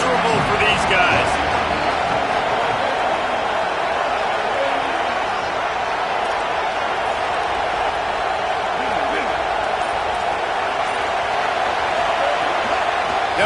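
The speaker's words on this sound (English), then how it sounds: "This crowd going to try to make life miserable for these guys." A stadium crowd at a football game gives off a continuous, loud roar, with a commentator talking over it.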